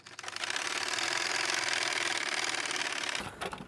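A sewing machine stitching a back pocket on a pair of pants, running in one steady, fast, continuous burst for about three seconds before stopping, followed by faint handling noises.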